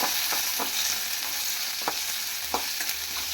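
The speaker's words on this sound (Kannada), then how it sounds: "ಇವಾಗ ಎಣ್ಣೆ ಸ್ವಲ್ಪ ಹಾಕೊಂಡಿದ್ದೀನಿ ಇವಾಗ ಇದನ್ನು ಫ್ರೈ ಮಾಡ್ಕೊಳ್ಳೋಣ" Thick-cut tomato chunks fry in a little oil with a bright, constant close-up sizzle, while a spoon scrapes and stirs through it a few times at an uneven pace.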